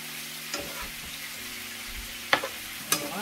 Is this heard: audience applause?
no